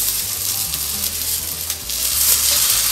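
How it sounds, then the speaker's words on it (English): An omelet with garlic sizzles steadily and loudly in a hot pan as it is flipped, a continuous dense crackle with a faint scrape partway through. "it's time to flip over the omelet"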